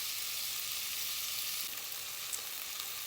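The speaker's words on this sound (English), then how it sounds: "And just get the onions kind of sweated out until they are translucent." Onions sweating in a pan for a chicken curry, a steady soft frying sizzle that stays even and continuous throughout, with faint light crackles and no talking.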